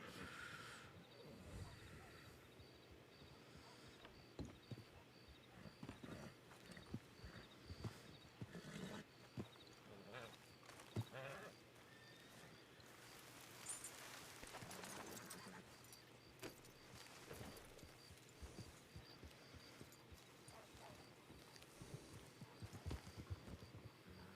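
Horse hooves clip-clop during riding in Red Dead Redemption 2 on a RedM server, with irregular clops, scattered clatter and occasional other game noises running throughout at a low level.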